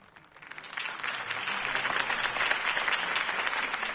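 A crowd applauds at a campaign speech in the Batman Telltale game, the clapping swelling up quickly from quiet into a steady, dense patter of many hands.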